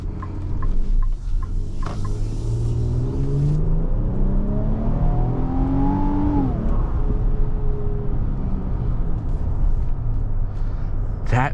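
A 2025 Infiniti QX80 with its 3.5-liter VR35 twin-turbo engine accelerates hard from inside the cabin, the engine note rising steadily in pitch before easing off under a constant road rumble.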